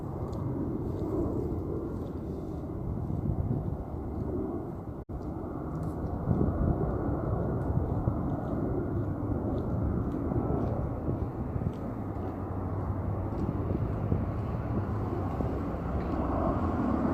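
A steady, broadband engine roar of an airplane passing overhead at night above Lakewood Cemetery holds nearly constant in level throughout, with no talking.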